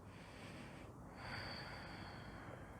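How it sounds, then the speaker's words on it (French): Deep, slow breath during a vinyasa yoga stretch, a steady airy exhale with a soft nasal rush partway through, close and quiet with no talking. "On prend 2 respirations profondes."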